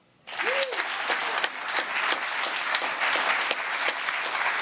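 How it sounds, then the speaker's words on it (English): Sustained applause from an audience honoring a Space Force Chief Master Sergeant at an anniversary ceremony, bursting in sharply after a brief quiet moment and holding steady and full throughout, with a faint voice near the start. "So how about a round of applause for Chief Master Sergeant Roger Tauberman."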